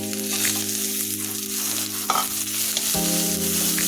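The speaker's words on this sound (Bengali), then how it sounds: "দিয়ে দিলাম শাকটা আমি বাগার" Greens tempered with fried garlic in hot oil, stirred continuously: a loud, close, dense sizzle and hiss with a few scraping stir knocks, no voices.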